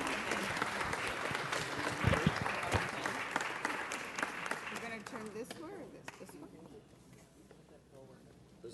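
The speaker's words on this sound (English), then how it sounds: "Let's give them another round of applause." Applause at a city council meeting, a broad wash of clapping that swells strongly and then gradually thins and fades toward the end, with voices mixed in underneath.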